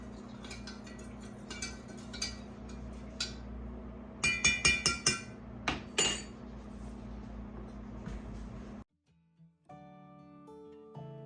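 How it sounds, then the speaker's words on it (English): A spoon clinks against the glass of a pitcher while warm sugar brine is stirred for pickled beets, bright repeated taps over a steady hum, with a cluster of sharper knocks midway before it drops to near silence. "I'm just mixing it up real good, making sure that all the sugar dissolves."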